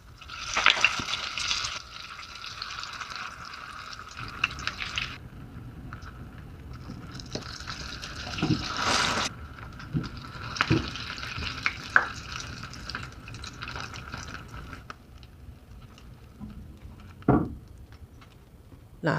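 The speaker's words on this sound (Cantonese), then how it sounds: "咁用中火將啲腐皮卷4面都煎到金黃" Bean curd sheet rolls fry in oil in a wok over medium heat, giving off bursts of bright sizzling that swell and fade. Scrapes and taps of a spatula come through during the quieter gaps.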